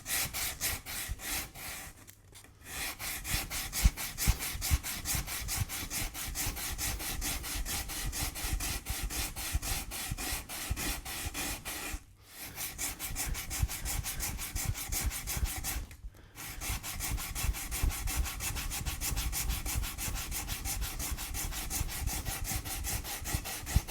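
Steady rhythmic rasping of sandpaper rubbed back and forth by hand on a guitar body, sanding away grain filler, close up, continuing with two short pauses.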